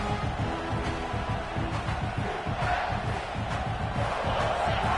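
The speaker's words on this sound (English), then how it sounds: "And here comes the noise. This crowd is trying to inspire this defense to make a big red zone stop." A football stadium crowd roars steadily through a late-game red zone defensive stand in a South Carolina versus LSU matchup, a dense, continuous wall of cheering and shouting with no letup.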